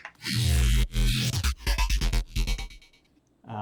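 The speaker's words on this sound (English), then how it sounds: "okay, now we have the notch filter." A sung or played melodic phrase passed through a sweeping notch filter in Ableton that carves moving gaps in the tone, with a hollow, phasing character and short pauses.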